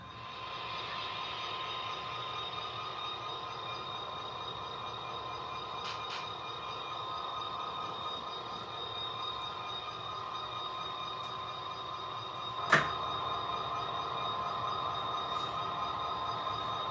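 Model train rolling along its track, a faint continuous rail hum with a thin high whine, and one sharp click partway through.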